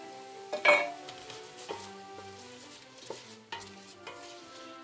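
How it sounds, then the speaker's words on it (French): Continuous sizzling of half an onion sautéing in a pan, with several scraping stirs and light clinks of a utensil against the pan. "je fais revenir mon oignon"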